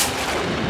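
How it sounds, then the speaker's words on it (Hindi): A single loud, booming gunshot with a broad, harsh blast and no speech, in a dark room after the lights go out. "ये तो गोली की आवाज है"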